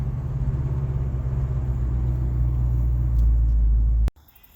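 A 1965 Ford Mustang with a rebuilt C4 automatic transmission rumbles along while driving, a steady low engine drone heard from inside that cuts off abruptly near the end.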